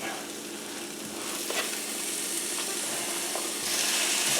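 Stew meat hits a pan of softening onions, a steady close sizzle of frying that grows louder as the meat goes in.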